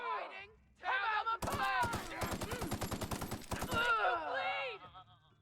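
Rapid automatic gunfire in The Outer Worlds, a dense burst of close, loud shots lasting a couple of seconds, framed by voice sounds before and after.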